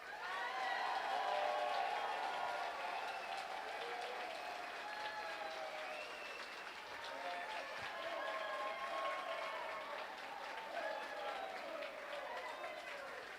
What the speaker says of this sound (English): So please give them a round of applause.